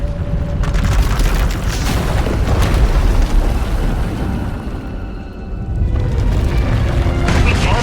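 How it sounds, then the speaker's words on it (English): Massive eruption of raging power blows apart an asylum in the video game Star Wars The Old Republic, a dense, sustained roar of booming blasts and rumbling debris, loud throughout with a brief dip before swelling again. "When it erupts, the entire asylum will be destroyed."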